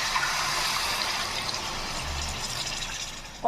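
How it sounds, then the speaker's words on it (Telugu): Water is poured into a brinjal and prawn curry in a cooking pot, a steady soft gushing and splashing that continues for a few seconds before ending with a small clunk. "ఇప్పుడు తగినన్ని నీళ్లు పోసుకుందాం"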